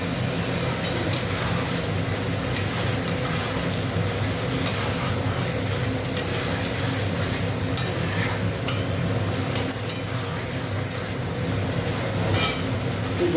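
Eggs stir-fried in a pan for a khichuri side dish, giving a steady, close sizzle with scraping and stirring and occasional light clinks of a utensil, with no talk throughout.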